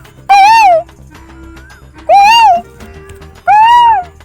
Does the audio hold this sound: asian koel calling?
yes